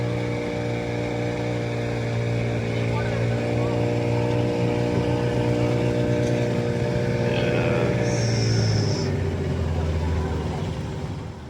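A motorboat engine drones loud and steady with a low harmonic hum as the boat moves through a mangrove forest, the pitch shifting slightly near the end while another tone briefly cuts in.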